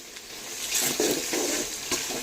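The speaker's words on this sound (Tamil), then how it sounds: "இஞ்சி பூண்டோட பச்சை வாசனை போகிற அளவுக்கு நல்லா வதக்கி விட்டுக்கலாம்" Onions and ginger garlic paste fry in a pan for village-style mutton kuzhambu, a continuous close sizzle with the scrape and shuffle of stirring rising over it in short bursts, with no speech.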